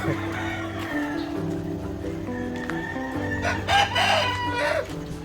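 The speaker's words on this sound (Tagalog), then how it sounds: "may nakawalang manok" A rooster crows loudly and close on a farm, a long strained call, with steady background hum and some clucking.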